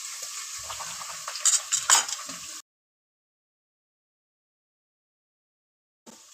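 Garlic and ginger paste frying in a generous amount of cooking oil, a steady bright sizzle with spoon scrapes and clinks against the pot, cutting off abruptly into silence before a brief return.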